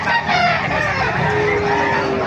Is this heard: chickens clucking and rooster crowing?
yes